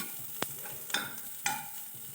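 Ginger and garlic sizzle gently in butter in a pan, with a few sharp scrapes and clicks of stirring.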